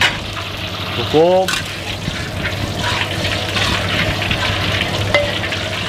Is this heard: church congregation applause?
no